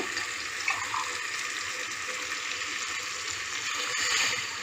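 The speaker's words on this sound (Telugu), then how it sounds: "బియ్యానికి రెండు గ్లాసులు కొబ్బరి పాలు పోసుకోవాలండి పోస్తున్నాను" Coconut milk poured into rice for coconut rice, a steady liquid pouring and splashing stream, close and fairly soft, continuing for several seconds.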